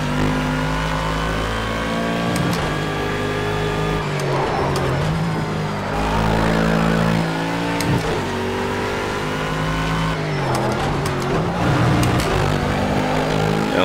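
Bentley GT3 race car in Project CARS 2 driven hard, the engine droning loud and close while it repeatedly revs up and drops through gear shifts.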